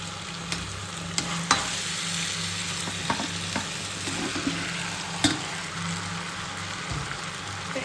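Cooked chicken is stirred into frying chili chicken in a pan, with a steady, moderate sizzle broken by scattered clicks and scrapes of the spoon against the pan, heard alone.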